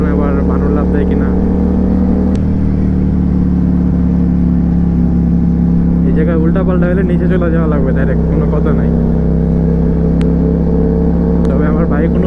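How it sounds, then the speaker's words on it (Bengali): Motorbike engine running steadily in second gear on a hilly road, a continuous low drone with some revving under someone talking throughout. "আমাদের বাইকের একটু হলো শব্দ আছে"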